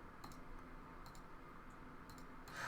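Sharp, light computer mouse clicks come in small clusters, several quick taps close to the microphone over a quiet background hum.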